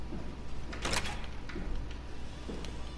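A door slides open in the sci-fi horror game Soma, a close mechanical whoosh with a bright hissing burst near the start, followed by fainter clunks and mechanical rumbles over a steady low ambient hum; no speech.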